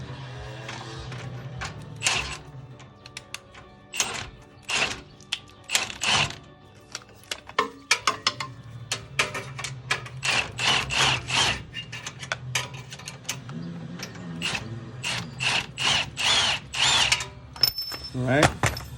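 Removing a bolt from a Lexus IS250 shock mount on the lower control arm: irregular metallic scrapes, clicks and short ratcheting bursts, close and moderately loud, with pauses between.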